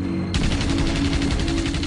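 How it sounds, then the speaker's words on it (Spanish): Typhoon fighter-bomber 20 mm cannons fire in a rapid, continuous rattling burst that starts abruptly and stays loud and dense throughout. "Los Typhoon, con cañones de 20 milímetros, se alineaban por encima y por detrás."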